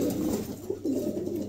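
Lahori pigeons at a breeding loft coo softly nearby in two low, rolling phrases separated by a short gap. No one speaks.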